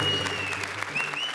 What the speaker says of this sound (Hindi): एकांकी शुरू, जोरदार तालियां।